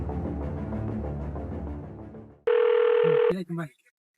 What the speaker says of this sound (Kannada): ಹಚ್ತೀನಿ ಫೋನ್ ಅವ್ರಿಗೆ